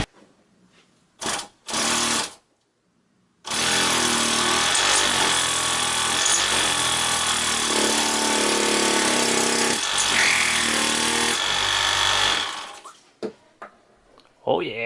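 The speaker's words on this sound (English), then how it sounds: "power up the motor and see if it builds pressure" A Wabco air ride compressor motor from a Trailblazer or SAAB 9-7x gives two short buzzing bursts, then runs loudly and continuously for about nine seconds with a harsh, gritty whir before cutting off.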